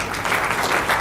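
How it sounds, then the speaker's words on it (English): An indoor conference audience breaks into a brief burst of dense, loud clapping that fills the whole second. "So help me give a round of applause and introduce Dr."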